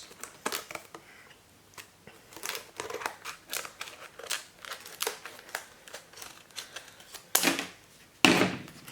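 Scissors or a blade snip and crinkle through the plastic packaging of an SSD in a string of irregular close cuts and rustles, with two louder crunches near the end and no talk.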